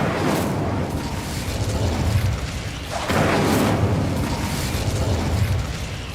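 An Incendio fire spell goes off in Hogwarts Legacy, two loud whooshing bursts of flame a few seconds apart, each flaring and rumbling before settling into crackling game ambience.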